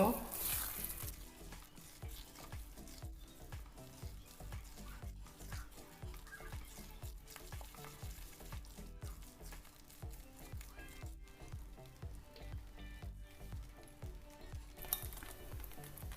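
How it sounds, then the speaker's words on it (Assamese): Besan barfi mixture being stirred in a hot pan, a soft continuous sizzle broken by a regular rhythm of spatula scrapes against the pan, fairly quiet and without speech. "লৰাই থাকিব নহ'লে তলত পুৰি যাব"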